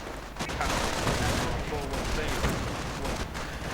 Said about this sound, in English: Armored car moving in to support the unfortunate Grenadiers caught out in this maelstrom of gunfire.